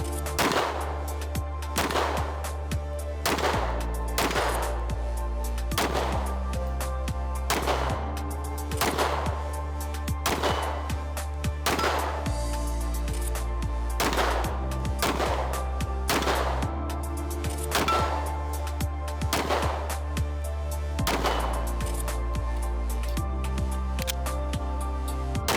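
Walther PDP Compact pistol fired in a series of sharp, loud shots, roughly a dozen spaced fairly evenly about two seconds apart, each a crisp crack with a short ringing decay, close by and without talk.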